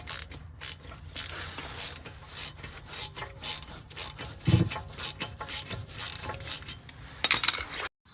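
A ratchet tightens a front brake caliper bolt on a Mercedes GL450, with steady close-up clicking and rasping of the pawl over several seconds, broken by a few heavier metallic knocks.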